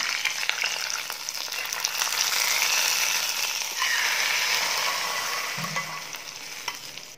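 Loud, steady sizzling of oil frying in a pan as curry leaves are tempered for sambar, with crackles and a spoon scraping and stirring against the metal.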